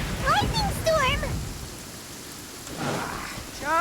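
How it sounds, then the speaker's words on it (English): Video game lightning storm with rain and thunder, a broad hiss of rainfall with low rumbling, while a speaking voice comes and goes over it. "Uh-oh! Lightning storm!"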